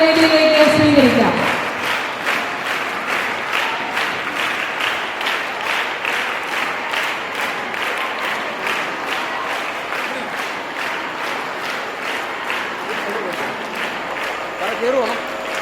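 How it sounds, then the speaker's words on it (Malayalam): An audience at a school annual day celebration applauds steadily to welcome a guest to the stage, a dense, sustained clatter of many hands, loud and full, with a voice briefly heard at the start. "സെയിന്റ് ആൻഡ്രൂസ് ക്ലാപ്പ് നൽകി അദ്ദേഹത്തെ നമുക്ക് വേദിയിലേക്ക് സ്വീകരിക്കാം."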